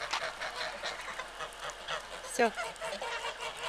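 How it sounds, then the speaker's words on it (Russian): Domestic geese returning home honk in the evening, a few nasal calls over a murmuring background, with someone speaking briefly nearby. "О, возвращаются гуси."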